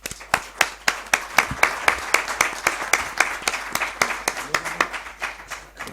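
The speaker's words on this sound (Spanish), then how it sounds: "por favor, un aplauso para don Claudio de Miguel" An audience at a book presentation in Spain applauds the honoured guest with sharp, sparse hand claps that quicken and then settle into a steady patter, fairly close, with no talk over it.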